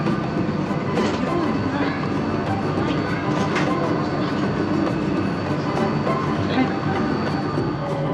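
An airport metro train at Singapore Changi carries passengers between terminals, its steady rumble and rail clatter filling the space continuously, with faint voices underneath.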